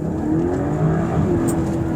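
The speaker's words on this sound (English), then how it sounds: "the pipe for the exhaust is not loud, right? You'll hear the car like flat" A 2023 BMW X3 M40i with a 285 kW engine accelerates in Eco Pro mode, its subdued exhaust giving a flat, steady, fairly close drone that rises gently over two seconds.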